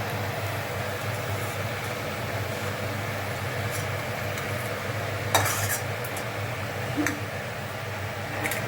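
Sliced onion frying in hot oil in a pan, a steady dense sizzle with a couple of brief scraping clacks from the stirring utensil, no talk.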